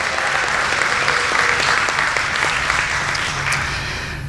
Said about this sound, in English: How about one more round of applause for all of our 20-year service award recipients?